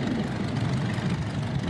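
At an outdoor parade of antique tractors, a McCormick Deering 1530 runs with a steady, deep idling rumble, close and unbroken for the whole stretch, with no voices over it.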